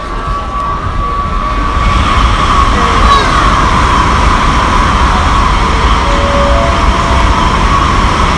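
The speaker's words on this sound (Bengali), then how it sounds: "ট্রেন স্টেশনে প্রচুর ভিড়" A crowded railway station on a China trip with bullet trains gives a steady dense din of ambient noise and a low hum, with faint tonal rail or announcement sounds drifting through.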